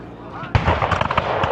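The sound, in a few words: big booms at a battle reenactment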